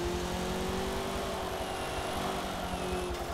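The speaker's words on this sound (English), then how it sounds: "I can hear a supercharger on there." A supercharged car engine in Forza Motorsport 7 holds a steady, loud drone with a faint high whine drifting above it, continuous and close with no talk.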